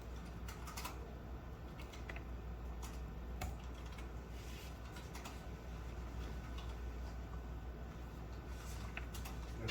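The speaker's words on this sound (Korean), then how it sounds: "키보드로 삭제하고 이 키보드 삭제해요" Quiet keyboard typing during a coding session, scattered light key clicks and taps at irregular intervals over a steady low hum, fairly faint and close.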